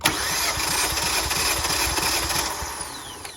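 A 2018 Kia Forte engine cranks on the starter during a compression test, giving a steady, rapid rhythmic chug of compression pulses that holds close and loud for the whole stretch without catching.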